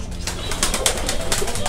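Pigeons inside a pigeon house give soft close coos and rustling wing movement in a short, busy burst of bird sound.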